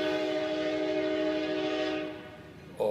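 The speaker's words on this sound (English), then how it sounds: "That's a loud train too, isn't it?" A large train sounds its horn in a long loud sustained blast that fades after about two seconds, with rumbling rail noise close by.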